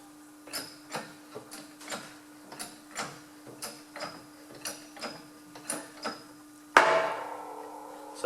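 A rear axle bearing on a Massey Ferguson 35X tractor is driven into its housing with about a dozen evenly spaced metallic hammer blows, close and crisp, ending in one louder ringing strike.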